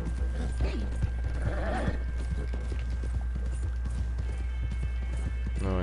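Horse hooves clip-clop steadily in a video game, a continuous close rhythm of hoof strikes with an occasional whinny, set over a constant game background hum.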